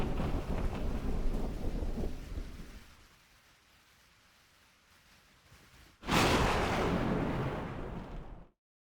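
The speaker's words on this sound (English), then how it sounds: "It looks as though the thunderstorm has passed." Thunderstorm in a video game: heavy rain and rolling thunder rumble fade to a quiet lull, then a sudden loud thunderclap crashes in and roars on for a couple of seconds before cutting off.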